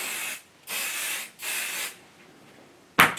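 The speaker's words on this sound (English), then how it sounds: "spray half of this with spray adhesive," Spray adhesive hisses from an aerosol can onto fabric placemat pieces in two long even bursts, then a brief sharp spurt after a pause. The sound is close and there is no talking.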